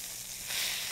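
Flank steak sizzling in butter in a cast iron pan, a soft, steady hiss of frying that swells slightly as the meat is turned.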